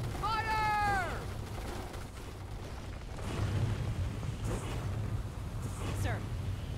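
Battle sounds from the Starship Troopers: Terran Command strategy game, with rapid rifle fire and booming impacts crackling under a mix of radio-style unit voice callouts, including a barked command at the start and further chatter later.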